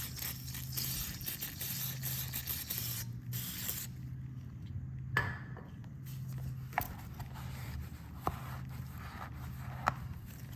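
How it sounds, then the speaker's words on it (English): Cleaning a motorcycle sprocket cover with spray cleaner, hissing aerosol bursts up close followed by light scrapes, clicks and taps of handling the part, with a low motor hum beneath. "I'm also going to clean out the sprocket cover"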